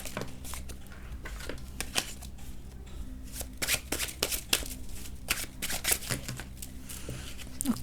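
Tarot cards shuffled by hand for a reading, a long run of crisp riffling flutters and slaps close by, irregular bursts with faint background hum.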